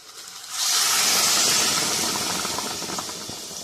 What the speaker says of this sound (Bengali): এবারে দিয়ে দেবো জল গরমটা